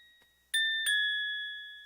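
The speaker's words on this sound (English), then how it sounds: "Same bell preset as the last beat, same strings as well." Synthesized bell preset from a hip-hop beat: two bright, sustained bell tones struck about a third of a second apart, each ringing out and slowly fading, with no voices present.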